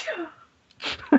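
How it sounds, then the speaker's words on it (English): A single sharp sneeze bursts out after a short hush, a voiced sneeze during a tabletop role-playing game narration, close and fairly loud. "The corpse randomly sneezes."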